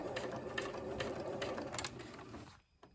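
A sewing machine stitches binding onto a bib shirt, giving a steady, fast mechanical whirr with rapid rhythmic needle clatter that runs continuously and then stops near the end.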